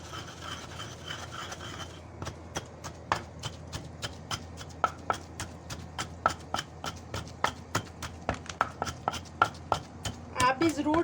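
Dried pomegranate seeds, mint, red chilli and salt are ground into chutney with a rhythmic series of firm pounding strikes that grow quicker and denser toward the end, close and clear with no talking.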